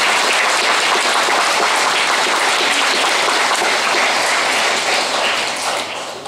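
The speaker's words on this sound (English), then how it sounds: "a round of applause" Sustained, loud applause from an audience at a school student awards ceremony, steady clapping filling the room for several seconds before easing slightly at the end, with no talk over it.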